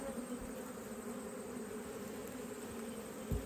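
Honey bees buzz at a swarmed hive as a steady, dense, close drone that holds evenly throughout, with no voices.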